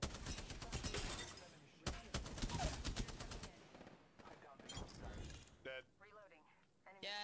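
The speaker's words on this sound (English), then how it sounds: "I heard shots." Rapid bursts of gunfire in a multiplayer shooter video game, dense volleys in the first half thinning to scattered shots later, with people talking over them.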